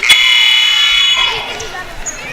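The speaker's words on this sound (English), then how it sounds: "A double buzzer just for fun." A loud electronic buzzer sounds in a basketball gym during a women's college game, a sustained harsh tone that fades after about a second, followed by faint crowd chatter in the arena.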